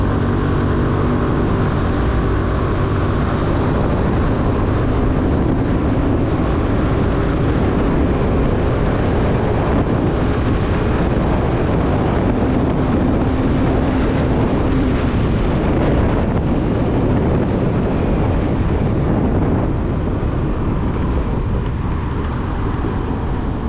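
A 2019 Suzuki Address V125 scooter ridden at speed, with continuous engine drone buried under heavy rushing wind noise across the whole ride.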